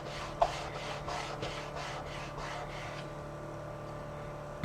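A tool rubs repeatedly across glued paper to burnish it into the fold of an album cover, making steady back-and-forth scraping strokes that stop after a few seconds, quiet and close by.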